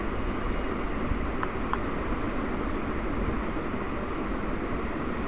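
A train approaching in the Granny horror video game gives a steady, unbroken rumbling roar that holds at an even loudness throughout, with no voices.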